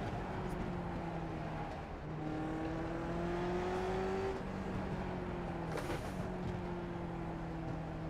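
Lotus 49 race car engine in a VR racing game at the Mid Ohio bike course, a steady droning whine that holds pitch, dips briefly near two seconds as the driver lifts, then climbs and settles again through the corner.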